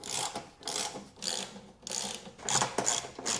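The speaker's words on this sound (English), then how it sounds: "we have 1, 2, 3, 4, 5, 6 3/8 bolts to take off" A hand ratchet backs out 3/8 bolts from the belly pan of an Ariens Deluxe 24 snowblower, giving rapid repeated clicking strokes in uneven bursts, close and alone.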